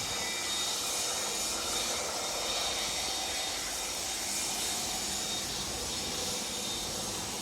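Autoclave reactor stirrer running steadily at 1200 RPM, a constant broadband whir and hum that holds evenly with no pauses or talk.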